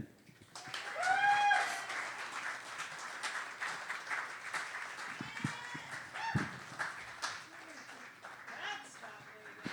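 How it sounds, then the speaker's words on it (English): A crowd applauds steadily for several seconds, with a few cheers and whoops rising above the dense clapping before it tapers slightly. "Please give a round of applause for Megan."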